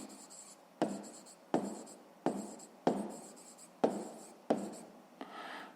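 Pen strokes scratch across paper as a math sum is written out, in seven or so distinct close scribbling bursts at a steady rhythm.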